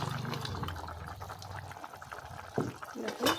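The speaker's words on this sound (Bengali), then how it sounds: "পাঁপড়গুলোকে ছেড়ে দিচ্ছি" Papads are dropped into a simmering vegetarian curry, making faint bubbling and a few soft liquid splashes near the end over a quiet kitchen background.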